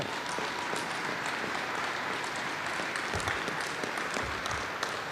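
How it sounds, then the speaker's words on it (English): A dense, sustained round of applause from an audience at the grand opening of the Red Baron Arena & Expo, loud and even throughout with no talk heard over it. "Let's give him a round of applause."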